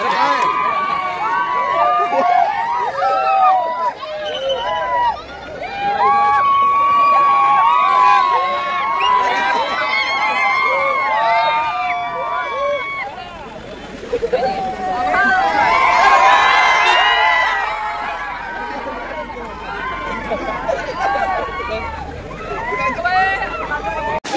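A packed crowd fills a gym at a natural bodybuilding event in Kurundwad, with dense overlapping voices, shouts and cheers rising and falling steadily throughout, swelling loudest midway.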